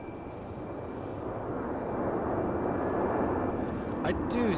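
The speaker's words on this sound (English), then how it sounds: "So that'll be a great way to end the show with the two freighter heavies." A heavy freighter jet at Raleigh-Durham International Airport gives off a broad roar that slowly swells and stays loud, heard from a distance at the airfield.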